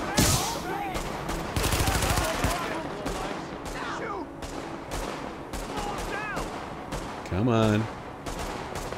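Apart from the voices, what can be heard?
gunfire in the video game The Division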